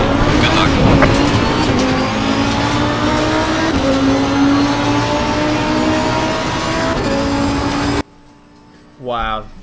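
Lamborghini Huracan Super Trofeo race car in Assetto Corsa Competizione, a loud continuous engine drone with rising and falling revs and tire squeal, cutting out abruptly near the end before a brief voice.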